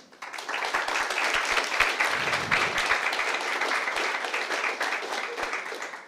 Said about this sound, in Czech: Poprosím o potlesk pro ně.